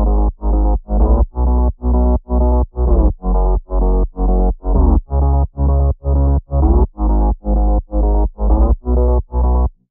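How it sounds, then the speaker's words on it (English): A synth bass line of short, evenly spaced, punchy notes pulsing in a steady rhythm, loud and up front with no other sounds. "The bass now sound like this."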